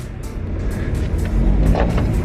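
A car rolls past on a wet B-road, its tyres hissing and swishing as it approaches and goes by.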